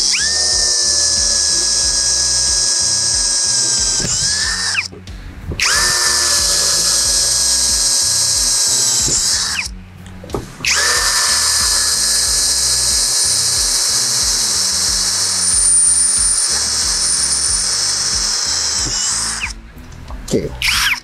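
A XENON CDID1845 18V cordless impact drill, set to drilling mode rather than impact, bores with a loud, steady, high whine in three long runs separated by brief pauses.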